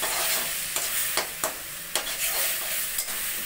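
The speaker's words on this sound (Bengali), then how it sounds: "আমি সেই মেথির শাকটা সহ আর একটু কষিয়ে নেব।" Gravy with fenugreek greens being sautéed in a pan, a loud continuous sizzle broken by rhythmic scraping strokes of a spatula roughly every half second, close up.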